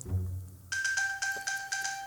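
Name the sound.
iPhone ping chime triggered from Apple Watch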